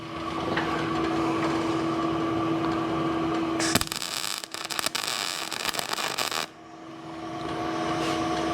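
A welder strikes a brief tack weld while fitting flip-forward seats and lock-downs on a Kawasaki KRX 1000: a sudden harsh buzzing crackle lasting a few seconds over a steady background hum, then cutting off abruptly.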